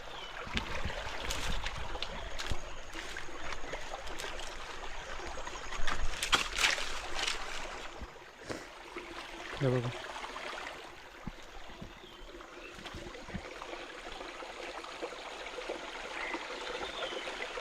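Water from a forest stream in the Konkan countryside flows steadily with a soft trickling wash, broken by brief splashes and knocks, and a voice speaks once in the middle.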